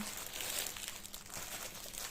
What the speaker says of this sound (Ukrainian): Пакети майка